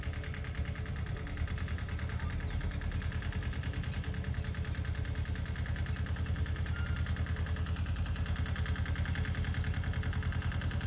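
A mini tractor engine runs steadily in a farm field during soil preparation, a continuous loud rhythmic chugging throughout.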